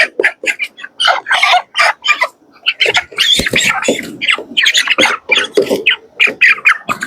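Many 26-day-old broiler chickens cluck and squawk close by in rapid, overlapping bursts, a busy, noisy flock with no talking.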